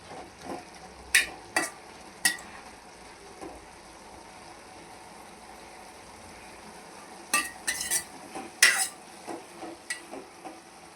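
Greens frying in a pan with a soft sizzle underneath, broken by clusters of sharp scrapes and clinks as a utensil stirs them, loudest toward the start and end.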